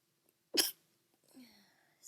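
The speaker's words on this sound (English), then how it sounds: "you still got the sneezes" A single sharp sneeze bursts out close and fairly loud, followed by a soft murmur in a quiet room.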